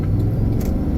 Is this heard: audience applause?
no